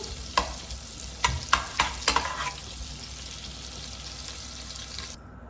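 Butter melts in a pan with a little sunflower oil, sizzling steadily up close while a utensil scrapes and taps the pan several times in quick clusters before the sizzle settles and dies down. No voices.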